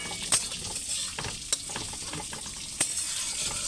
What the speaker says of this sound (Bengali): তো যখন শাকটা একটু ভাজা ভাজা হয়ে যাবে,